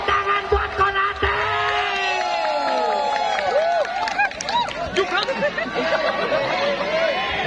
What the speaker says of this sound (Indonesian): Tepuk tangan buat Konate.